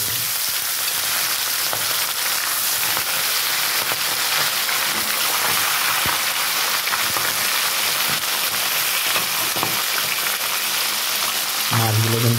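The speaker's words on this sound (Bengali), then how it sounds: "মাছগুলো কিন্তু কড়া করে ভাজতে হয়" Tilapia pieces frying in hot oil in a pan for fish kasundi, a steady loud crackling sizzle throughout, close up, with a brief clatter near the end.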